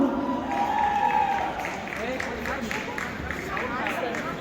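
Audience at a Tamil cultural music event in Oberhausen, Germany, gives sustained applause, a continuous mass of clapping and crowd noise with a tone sounding early on and voices mixed in.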